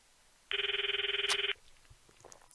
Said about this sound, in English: Let's give her a phone call.